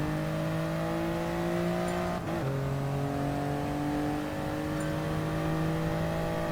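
A 2021 Toyota Yaris race car in a Toyota Gazoo Racing GT Cup video game drones steadily at high revs, its engine note rising slowly with one brief dip as a gear shifts, constant and close with no talk.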